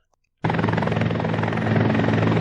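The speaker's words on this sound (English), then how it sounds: "When they bring out the helicopter, it's serious." A helicopter over striking workers in South Korea cuts in abruptly after a brief silence, then thrums as a loud, close, steady rotor drone.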